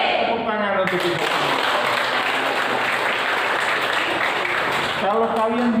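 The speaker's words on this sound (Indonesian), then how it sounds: "Tepuk tangan untuk kita." An audience at a young entrepreneurs' event in Lembata claps together in a dense, loud, continuous burst of applause lasting several seconds, with a voice speaking over the start and end.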